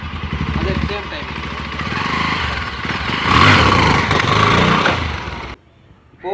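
A motorcycle engine revs hard as the clutch is let out to pop a wheelie, a loud buzzing roar that swells for several seconds, then cuts off abruptly before a short burst returns at the end.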